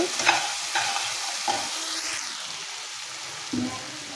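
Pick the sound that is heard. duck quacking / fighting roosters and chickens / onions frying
onions frying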